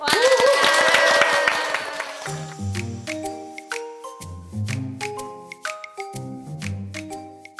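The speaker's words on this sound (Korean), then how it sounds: "박수로 함께합니다." A Korean talk-show studio audience claps to welcome a professor onstage, a dense burst of applause lasting about two seconds before giving way to bright, chiming music notes.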